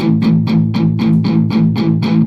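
Chugging, distorted electric guitar strums in a steady rhythm, eight evenly spaced accented hits over a sustained, buzzy low drone.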